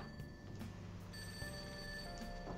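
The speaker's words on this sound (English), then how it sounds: "slight ringing noise? oh, I should answer the phone." Telephone ringing in the video game Persona 5, a steady electronic bell tone repeating over a quiet in-game background, with no talking.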